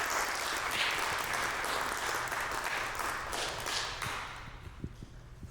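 Indoor audience applause at a conversation event welcomes art dealers Hal Bromm and Michael Findlay, a steady mass of clapping that tapers off, with a few scattered claps and footsteps at the end.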